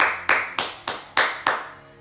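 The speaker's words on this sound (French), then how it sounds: "Applaudissez-vous." Participants at the end of a Tabata workout session clap six sharp, evenly spaced handclaps close by, with no talking over them.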